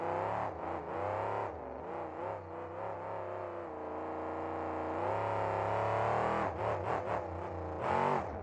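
Monster truck at a 2006 KORR Monsters event in Pontiac, Michigan, its engine revving hard in long surging pulls, then choppy bursts of throttle near the end, loud and close.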